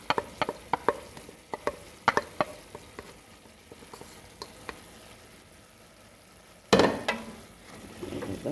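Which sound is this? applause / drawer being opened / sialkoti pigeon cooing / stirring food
stirring food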